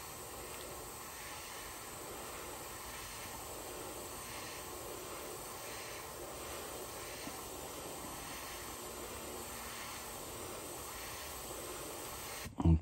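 A paint spray gun lays another coat over red paint on a fishing lure, giving a faint, steady, unbroken hiss that runs evenly the whole time, with no voices, ending in a short knock.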